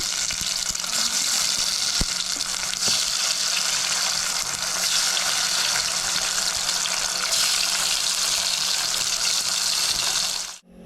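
Brinjal slices fry in hot oil in a pan, giving a loud, steady, unbroken sizzle that runs throughout before cutting off abruptly at the end.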